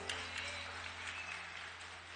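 A church congregation applauding for Jesus during a sermon, soft, diffuse clapping from a distant crowd heard faintly over a steady room hum.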